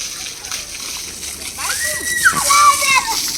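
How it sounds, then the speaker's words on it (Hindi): Water splashing and sloshing as a child is bathed, a few close splashes rising midway, with voices talking over it. "रित्तो को नहवा रही है अभी मम्मा"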